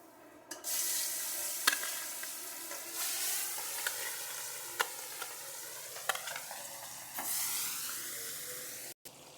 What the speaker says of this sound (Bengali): মাগুর মাছটা ভাজা হোক